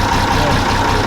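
A vintage engine idles with a steady, even rumble, loud and close, running smoothly without revving.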